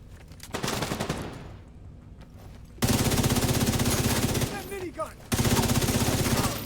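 A minigun fires in a shooter video game in long, loud, sustained rapid-fire bursts with a short pause between them and brief game voice chatter.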